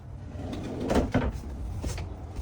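RV drawers and cupboards opening and closing, with a couple of close wooden thumps and clunks in quick succession over a faint room background.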